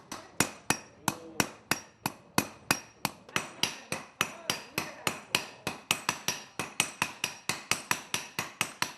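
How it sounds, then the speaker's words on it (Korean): Blacksmiths hammer red-hot iron in a rhythmic, steady flurry of sharp metallic strikes, several hammers alternating in quick succession, loud and close with no voices. "불에 충분히 달궈지고 나면 대장장이들의 손길에 의해 단단해질 차례입니다"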